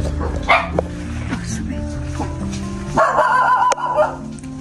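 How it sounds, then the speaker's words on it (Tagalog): Dogs bark and yip close by, several overlapping voices, with a louder burst of barking near the end amid background noise. "ang mga aso dito"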